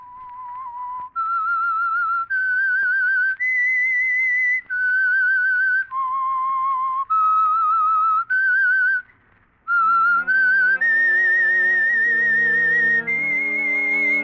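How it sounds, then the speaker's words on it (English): A solo whistled melody serves as the theme of The Whistler radio show, a clear, eerie tune of sustained notes that is later joined by orchestral accompaniment. "That whistle is your signal for the Signal Oil Program"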